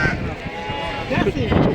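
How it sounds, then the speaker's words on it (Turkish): Alpine goats bleat at a livestock market in Mashtaga, short wavering cries up close that rise over steady conversation and crowd noise. "Alpin keçilərimizdir."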